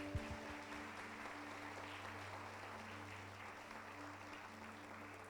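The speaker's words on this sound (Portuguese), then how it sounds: "Uma salva de palmas para eles." A church congregation claps together in a steady, sustained round of applause, heard somewhat distant and soft over a low hum, with a brief louder knock at the start.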